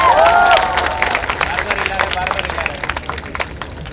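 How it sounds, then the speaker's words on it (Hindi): An audience at the inauguration of the Kala Ghoda Arts Film Festival claps for guests. The clapping is scattered and uneven, with a voice and a brief tonal sound at the start, then thins toward the end. "तालियां दे दीजिए उनके लिए"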